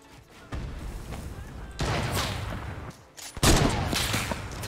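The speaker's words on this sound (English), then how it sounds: "I'm providing covering fire" Gunfire in the Fortnite video game, several loud bursts of shots close by, broken by brief gaps and ending in a sharp, heavy volley.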